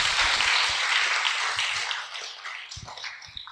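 An audience at an Islamic boarding school gathering in Banyuwangi applauds a young female preacher, a dense wash of clapping that is strong at first and then fades and thins toward the end.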